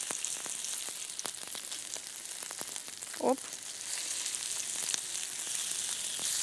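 Potato pancakes frying in a hot pan give a steady, close sizzle throughout, with a brief spoken exclamation partway through.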